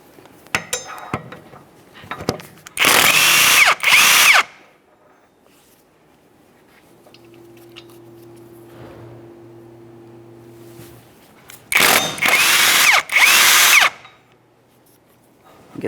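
A power tool with a 17 mm socket spins off the wheel bearing mounting nuts on a 2011-2020 Toyota Sienna rear hub, giving two loud whirring bursts of about two seconds each, separated by quieter clinks and handling noise.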